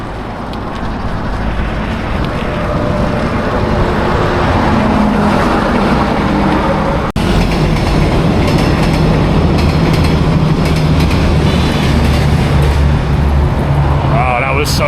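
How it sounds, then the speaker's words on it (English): A train whizzes by in Vietnam, a loud, sustained rumble and rush that fills the whole stretch, with a momentary break around the middle before the roar carries on close by. "Seeing the train whiz by like that, that's mad."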